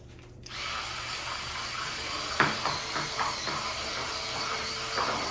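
A cordless electric spin scrubber with a tapered brush attachment starts up and whirs steadily while scrubbing a bathroom shower. The motor hums close and constant, with occasional scraping bumps as the brush meets the surface.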